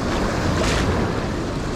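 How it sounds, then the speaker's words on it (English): Wake from a passing small boat washing against the rocky shore of the River Derwent in Tasmania, a close, loud rush of surf with wind buffeting the microphone, no voices. "A little boat wake coming past now."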